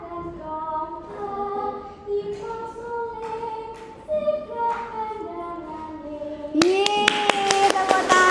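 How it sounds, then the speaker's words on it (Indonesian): Children clap in a sharp, quick burst after a stretch of tuneful melody, the claps starting abruptly near the end and continuing to the finish. "Tepuk tangan dong."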